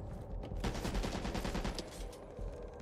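Assault rifle fire in Back 4 Blood, rapid bursts of automatic shots rattling for a couple of seconds after a brief lull, fairly close and without talk.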